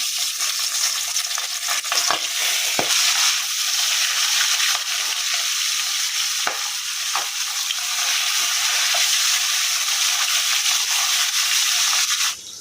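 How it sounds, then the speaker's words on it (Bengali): Magur catfish fry in a hot pot with a constant bright sizzle, broken by a few faint clicks and knocks near the pan, with no voices. "পাতিলটা ভালো করে গরম করে নিচ্ছি মাগুর মাছগুলো ভাজবো"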